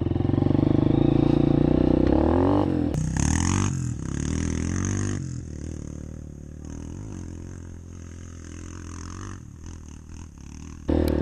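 A Yamaha TTR 125 dirt bike revs loudly while struggling for traction in thick mud on a trail, its engine note rising and falling through bursts of throttle and clattering, close up.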